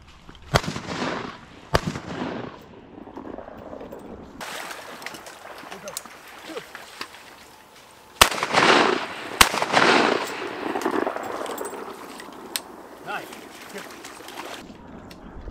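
Shotgun blasts ring out during a wood duck hunt in a wet, wooded spot, with several sharp, loud reports spread across the span and water trickling and voices talking in between.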